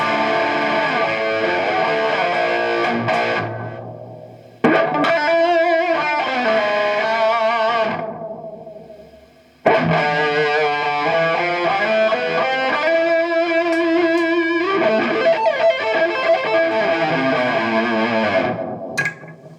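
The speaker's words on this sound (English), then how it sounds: "if we go to low pass, you'll hear that the delay is a lot darker" Heavily distorted electric guitar chords through an MI Effects Lo-Fi Delay pedal set to low pass ring out and decay into a muffled, dark echo tail, repeated several times, loud and upfront.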